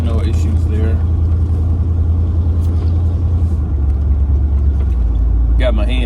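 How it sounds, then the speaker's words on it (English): A 1967 Ford Galaxie's engine rumbles deep and loud under throttle, with the low tone shifting as it is revved. A voice is briefly audible at the start and again near the end. "let's give her some gas"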